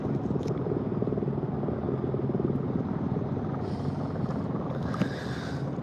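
A rescue helicopter flying overhead, its steady rotor and engine drone filling the scene at moderate loudness, with a few faint higher noises near the end and no voices.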